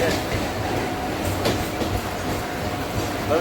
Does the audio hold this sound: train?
yes